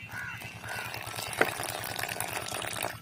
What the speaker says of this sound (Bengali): আমি অল্প অল্প করে জল দিচ্ছি